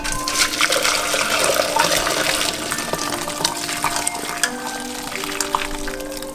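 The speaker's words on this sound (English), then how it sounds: "And now we're going to strain it, and then we'll have clean broth left over." Ramen broth poured through a strainer into a large bowl, a steady close gush and splash of liquid running continuously without talk.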